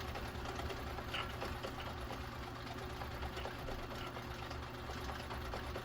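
A Viking Husqvarna 2000 sewing machine runs steadily, a close, continuous mechanical whir with a fine rapid rhythmic stitching texture throughout.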